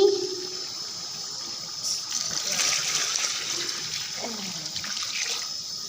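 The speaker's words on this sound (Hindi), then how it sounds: "अब इसमें जाएगा पानी" Water splashes and gurgles steadily for several seconds as it is poured into a cooking pot, a close pouring sound with a slight rise partway through and faint clinks.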